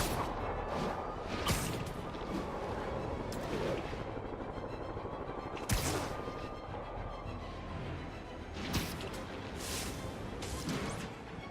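Gunfire in the Marvel's Spider-Man video game during a city street fight, a steady stream of sharp shots and bursts set against a constant busy game background, with several louder cracks scattered through.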